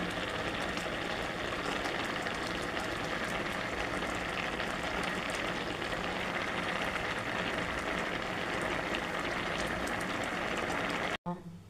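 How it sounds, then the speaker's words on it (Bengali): Carrot halwa bubbling in a pan as it cooks down, a steady dense sizzle and simmer close up that fills the whole stretch and cuts off abruptly near the end. "ফুটছে"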